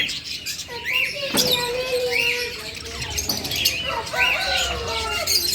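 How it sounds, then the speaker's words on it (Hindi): Yellow and green lovebirds in a bird shop, wings flapping and sharp chirps and squawks repeating close by in a busy cluster of calls. "ये येलो लव बर्ड्स हैं, ये ग्रीन लव बर्ड्स हैं"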